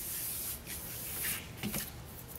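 Hand sanding of a motorcycle's clear coat before a reclear, a steady close-up rasping rub of abrasive over painted bodywork with slight swells in pressure, continuous throughout with no talk.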